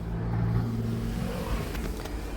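Car driving on the road, a steady low engine and road rumble that stays close and continuous, with no voices.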